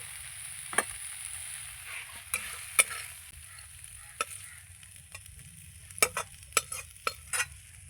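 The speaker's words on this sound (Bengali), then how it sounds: "আর এখন কচি পাট শাক ভেজেছি, একদম কড়ার মধ্যে লেগে গেছে।" Young jute leaves being stir-fried in a wok give a soft, low sizzle punctuated by sharp scraping and tapping of a spatula against the pan, clustered more densely toward the end.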